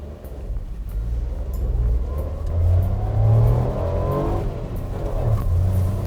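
A 2020 Suzuki S-Presso with a 1.0L engine and manual transmission accelerates on an open road. The engine drone swells and rises in pitch over road rumble, close and fairly loud, with no talking.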